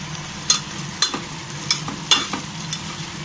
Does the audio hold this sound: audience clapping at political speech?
no